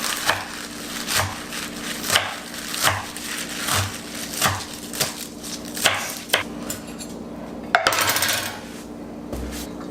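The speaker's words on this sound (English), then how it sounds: "So I will quickly chop some spinach and put it in the pot" A knife chops spinach on a wooden board for a baby's meal, with a steady series of crisp knocks about every half second, close and distinct, ending in a brief clatter.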